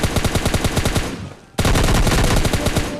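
Rapid automatic gunfire from PUBG Mobile Lite, loud bursts of close shots in fast rhythm with a brief pause around the middle before firing resumes.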